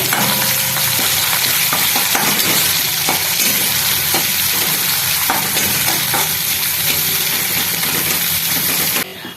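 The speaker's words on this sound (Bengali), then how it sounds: "এবার দিয়ে দিলাম এর মধ্যে পেঁয়াজ পেঁয়াজটা একটু লাল লাল করে ভেজে নেবো" Onions fry in a pan for an aloo dum recipe with a loud, steady sizzle, punctuated by occasional scraping stirs. The sizzle cuts off abruptly just before the end and no one speaks.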